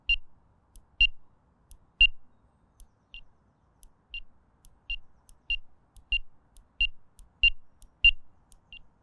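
A Nash R4 Siren carp fishing bite alarm sounds a series of short, sharp electronic beeps in an irregular rhythm as its volume is cycled, each beep close and clear against a quiet background.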